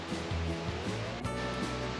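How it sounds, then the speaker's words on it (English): A clean sheet of water pours over a manufactured edge, a steady, close, full-bodied rushing roar that never lets up, with a low droning hum running beneath it. "That clean sheet waterfall right over the manufactured edge"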